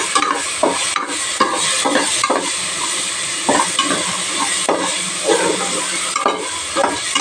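A ground paste of fennel and spices sautés in a pan, giving a loud, close, steady sizzle broken by repeated rhythmic scraping stirs, with no one speaking.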